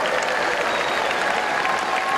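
A crowd at a Democratic Party event gives a big round of applause, thick continuous clapping from many people filling a room, loud and even throughout with no speech.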